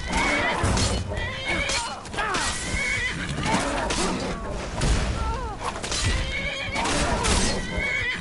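A horse in the video game Skyrim whinnies loudly several times amid clattering hooves, thuds and swooshing noises, with a shouting voice mixed in.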